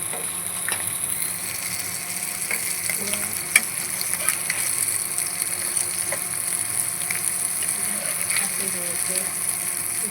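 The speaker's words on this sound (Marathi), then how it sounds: "चला आपण सकाळून परत पलटी करूया मस्त ते शेकतायत" Mandeli fish fry in a pan with a steady close sizzle and crackle, sprinkled with small spitting pops and occasional clicks throughout, no speech heard.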